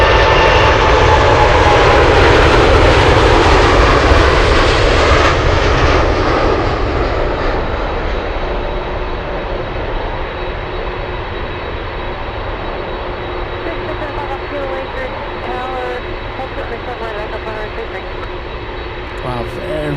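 An MD-11 jet taking off at Anchorage airport, a loud roaring thrust that gradually fades into a distant drone as the aircraft climbs away, with people talking over it.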